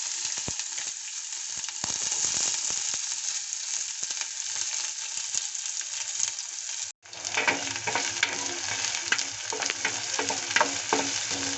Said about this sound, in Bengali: পেঁয়াজগুলো একটু নরম করে ভেজে নেব।